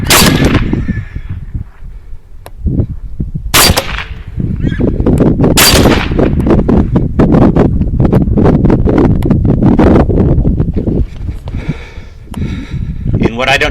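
A rifle fires a few loud, sharp shots during a hog hunt outdoors, spaced seconds apart, over constant close rustling, handling noise and voices.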